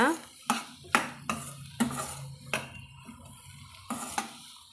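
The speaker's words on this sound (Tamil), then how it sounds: "ஒரு வதக்கு வதக்கி விட்டுக்கலாங்க நல்லா எண்ணெயில் கலந்து வரும்படி இது போல் நல்லா ஒரு நிமிஷத்துக்கு நம்ம வதக்கலாங்க" Mushrooms are sautéed in oil for gravy, a spoon scraping and clinking against the pan in a rhythmic series of about ten sharp strokes over a faint sizzle, close by, with a voice speaking over it.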